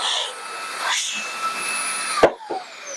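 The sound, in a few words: Makita XGT 40 volt cordless blower running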